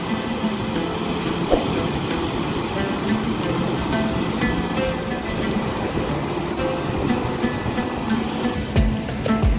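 Steady roar of Mallalli Falls near Somwarpet, a broad continuous rush of falling water that stays loud and unbroken throughout, with no voices over it.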